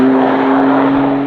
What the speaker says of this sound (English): The last thing I want to end off with is the excitement of the exhaust.